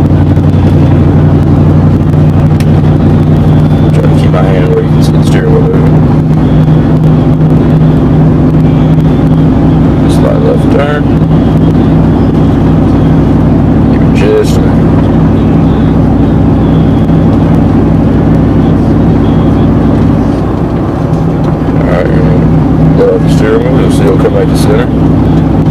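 A car rolls along a road at steady speed during a gearbox test, its engine and tyre rumble droning loud and constant throughout, with someone talking over it the whole time.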